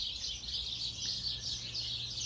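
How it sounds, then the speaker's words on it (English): Birds chirp and twitter in a tree next door, a steady lively stream of overlapping high calls that stays moderately distant and fairly faint over a low background hum, with no talking. "now we got these birds having a lively conversation in the tree next door"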